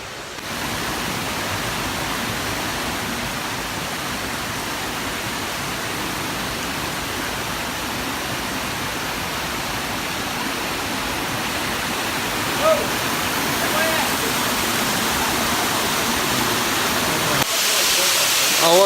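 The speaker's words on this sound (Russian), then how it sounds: "А вот тот самый водопад." The Nikhaloy waterfall in Chechnya roars as a dense, constant rushing wash of falling water, loud and unbroken throughout, growing slightly stronger toward the end.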